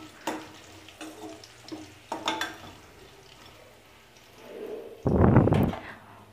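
Curry leaves stirred in a pan for rava pongal: a few scattered scrapes and clinks of a spoon, then a loud burst of hissing sizzle near the end.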